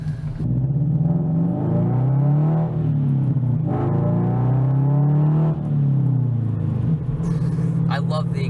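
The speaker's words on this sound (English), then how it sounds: "I love the exhaust on this car." A Subaru BRZ's exhaust rises and falls through several revs, a deep, loud rumble that climbs and settles twice before returning to idle.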